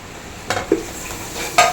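A spoon stirring curd-based masala for chicken biryani in a pot, with a few quick scraping clinks against the metal over a faint sizzle, close and brief.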